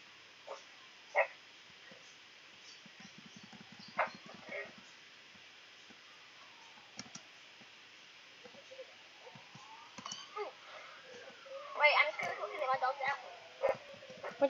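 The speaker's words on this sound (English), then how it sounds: "I'm just stomping on the floor to get the dog to be quiet." Indoor dog barking and whimpering in short, scattered bursts amid ongoing talk, with a faint siren wailing in the distance and some thumps from stomping on the floor.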